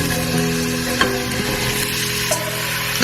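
Onions saute in heated oil in a pot for a beef and vegetable stew, a steady, moderately loud sizzle with a few soft clinks and stirring knocks, and no one speaking.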